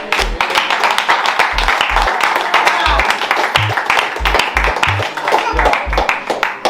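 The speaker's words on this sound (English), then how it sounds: "So give her a round of applause." A round of applause rises from the people gathered at a TrenchTown community event, with dense continuous clapping over a rhythmic bass beat of music that keeps thumping underneath.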